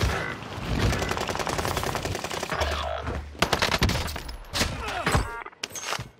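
Rapid SMG fire from the H4 Blixen in a Call of Duty Rebirth match, dense bursts of automatic gunfire with sharp individual shots standing out toward the end, loud and continuous with no clear talk.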